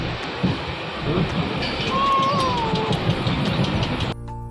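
An overnight passenger train to Puri rumbles along steadily with a rolling, rattling roar and a thin metallic squeal rising briefly, running continuously until an abrupt cut.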